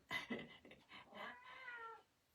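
A cat meows close by, a couple of short calls running into a longer drawn-out whining meow, with no talking.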